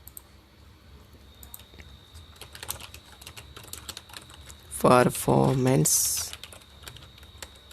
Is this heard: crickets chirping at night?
no